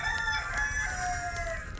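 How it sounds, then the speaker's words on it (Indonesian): A rooster crows in a Swordigo game cutscene, one long drawn-out call held steady over a busy background of music and effects. "Suara ayam lur."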